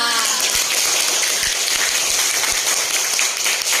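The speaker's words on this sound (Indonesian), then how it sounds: "Tepuk tangan untuk kita semua" A school class applauds together at the end of a lesson, a dense, steady wash of many hands clapping that fills the whole clip, loud and continuous with no voices.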